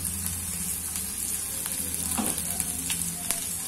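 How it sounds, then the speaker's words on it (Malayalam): Onion, curry leaves, ginger and green chili sautéing in oil, a steady close sizzle with occasional spatula scrapes and small crackles, moderately quiet and uninterrupted. "ഇതൊന്ന് വഴറ്റി ബ്രൗൺ കളറാക്കിയിട്ട് കാണിക്കാം"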